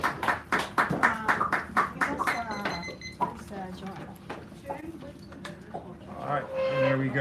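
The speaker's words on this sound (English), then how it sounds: "Give her a round of applause" Scattered audience clapping at a poetry reading in a San Francisco café, a dozen or so sharp claps early on, thinning out while a voice talks over it.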